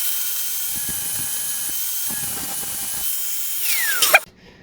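An angle grinder cuts into the lock on a Raider 150 motorcycle sprocket with a steady high-pitched whine and faint scraping, then rises briefly before cutting off abruptly.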